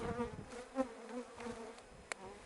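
Honeybees at a backyard apiary after a fully successful wintering hum in a steady close drone, with a faint insect pass near the end and no voices.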